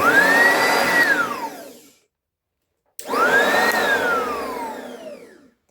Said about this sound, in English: these machines both pretty much sound exactly the same. Well, I guess we'll run them head to head.